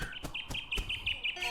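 In the Fable Petite Party video game, a bird chirps in a quick series of bright, high tweets, punctuated by sharp percussive clicks, close and clear.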